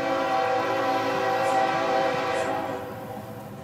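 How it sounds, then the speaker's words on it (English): A slow-moving intermodal freight train sounds a long, loud sustained horn blast close by, steady chords over a low rumble that eases slightly toward the end. "see if you could beat the train across from when it gets to the front of that light"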